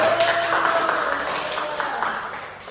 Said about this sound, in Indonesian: Tepuk tangan dulu untuk Mas Hernanda.